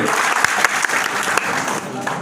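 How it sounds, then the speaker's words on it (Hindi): A seated audience at a Hindi business seminar bursts into steady applause, dense continuous clapping with a few sharper individual claps standing out, loud and close. "वो एक बार ताली बजाएंगे।"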